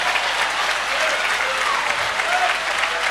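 A church audience at a gospel sermon claps steadily, a dense, sustained round of applause lasting about three seconds with no talking over it.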